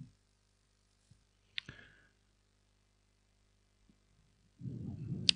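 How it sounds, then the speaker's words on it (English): Mouse clicks on a computer while working a forex trading chart: a few sharp isolated clicks spaced out over near silence, close and fairly quiet, with a burst of low rustling noise at the end. "Click on our chart."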